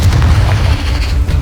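A Confringo blast spell from the Hogwarts Legacy video game on PC: a loud, dense, booming burst with continuous low rumble and crackle filling the whole moment, no talk.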